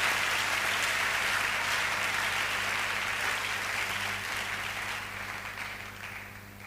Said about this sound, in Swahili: Kama tuko sawa, tumpike sisi sote makofi Bwana